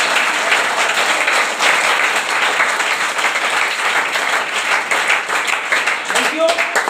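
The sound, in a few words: audience clapping and applauding at a meeting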